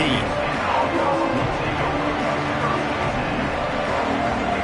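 Football stadium crowd roaring steadily after a kickoff return, a dense continuous wall of cheering and babble from a large audience, with no clear single voices.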